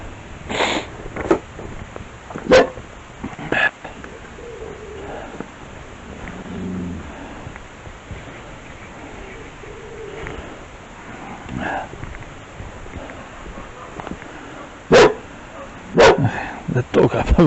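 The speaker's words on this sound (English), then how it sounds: "The dog up the road having a bit of a bark, so Cooper's got to join in, of course." Dogs bark outdoors in a garden during bonsai grape vine repotting, with a few sharp, nearby barks at the start and a louder burst near the end, separated by quieter rustling and handling noise.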